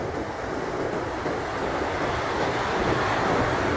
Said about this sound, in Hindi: आप लहरें देख सकते हैं, पानी का कलर देख सकते हैं आप।